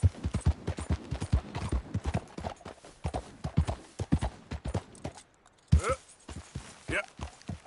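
A horse's hooves clip-clop at a walking pace in the Red Dead Redemption 2 video game, rhythmic and close, while a voice talks over the steps.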